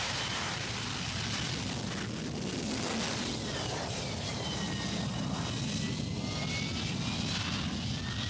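The jet engine of an AV-8 Harrier in a flight simulator game gives a constant, loud, broad roar with a faint shifting whine on top, unbroken from start to end and with no talk over it.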